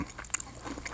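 A few crisp crunching bites into crispy roast suckling pig skin, close and sharp, with short crackly bursts scattered across a brief moment and no talking.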